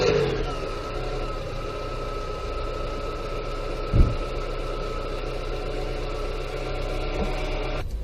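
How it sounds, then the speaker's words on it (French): A mid-pitched 1.4-litre 16-valve petrol car engine runs steadily with a constant hum and a faint whine, a brief knock partway through, then cuts off abruptly near the end. "Dans ce cas, procédons à la mise en marche du moteur."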